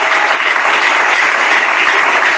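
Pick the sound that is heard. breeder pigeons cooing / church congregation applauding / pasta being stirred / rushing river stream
church congregation applauding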